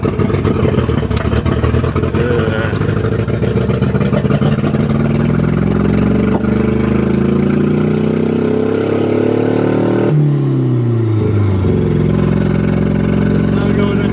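Engine of a turbocharged S12 car running with a steady, loud low rumble and shifting harmonic tones as revs rise and fall, persisting throughout with a brief change partway.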